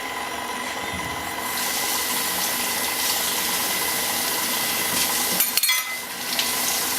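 A kitchen mixer running on low speed, a steady loud whirring drone throughout with a brief clatter near the end.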